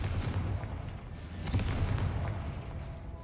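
A fiery Confringo spell explosion from Hogwarts Legacy erupts in a dense, rumbling blast that rolls on as a sustained boom and crackle, loud and continuous.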